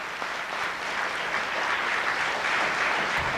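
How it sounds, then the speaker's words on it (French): An audience at a public lecture gives steady, sustained applause, a dense even roar of clapping from a large hall with no talking over it. "Applaudissez-le, s'il vous plaît,"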